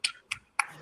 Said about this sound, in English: why are you still clapping?